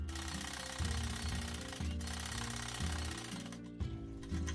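Sewing machine stitching a mekhela, a steady mechanical whirr running in four close, loud bursts of about a second each, with no talk.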